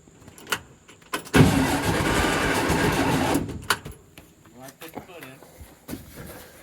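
A barn-find air-cooled VW Bug engine cranks, catches and runs in a loud burst of revving for about two seconds, then sputters and settles, with someone talking between the engine bursts.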